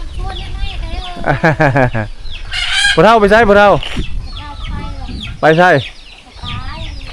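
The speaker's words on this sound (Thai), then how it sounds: "เป็ดไก่เพิ่นที่เพิ่นเลี้ยงนี่เต็มเลยบ้าน" Chickens cluck loudly close by in a remote mountain village, with a few drawn-out crowing calls standing out, while a person speaks briefly in between.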